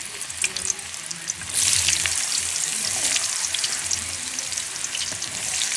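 Sweet potato pieces for camoteque drop into hot oil and fry with a loud, steady sizzle that swells sharply after the first second and a half and holds, with faint crackles throughout.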